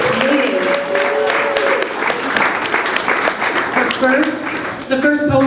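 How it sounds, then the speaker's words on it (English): Audience applause at a poetry launch reading at Tibet House in New York, a dense, steady wash of clapping filling the room throughout, with some voices and cheers mixed in near the end. "A round of applause, please."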